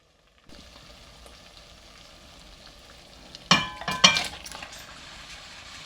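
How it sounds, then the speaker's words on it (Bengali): Chicken pieces dropped into cooked-down masala for an orange masala chicken set off a loud burst of sizzling and frying, with clinks of a utensil against the pan, all over a quieter steady background sizzle. "এটা আমার কষানো হয়ে গেছে, আমি এখন এর মধ্যে চিকেনটা দিয়ে দিচ্ছি।"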